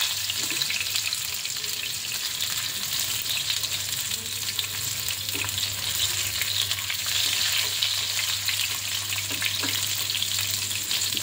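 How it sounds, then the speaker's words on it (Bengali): Balls of chital fish sizzle steadily in hot oil in a pan as they are turned, making a continuous crackling fry with a low hum beneath it. "তাই হালকা হালকা করে ঘুরিয়ে ফিরিয়ে ভেজে নিতে হবে"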